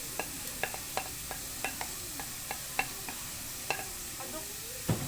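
Carrots and celery leaves are stirred in a pan, a quiet series of sharp scraping clicks at an irregular rhythm over a faint background sizzle.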